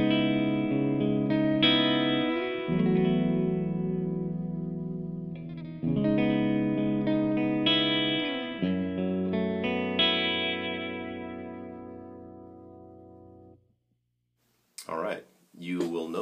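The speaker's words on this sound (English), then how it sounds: "you can start to hear some reverb coming from the the left side of your speaker" Sustained electric guitar chords through two amplifiers with a satellite reverb effect ring out with a washy, echoing reverb tail, then fade to silence before a few brief knocks.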